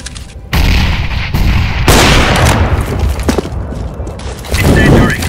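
Grenade exploding in CS:GO competitive play, a loud sudden boom followed by bursts of gunfire and sharp impacts, with a louder blast near the end and a voice heard briefly.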